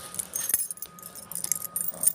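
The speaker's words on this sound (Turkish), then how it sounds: "Anahtar" A bunch of keys jingles and clinks in short, irregular bursts, close by, with light metallic chimes scattered throughout.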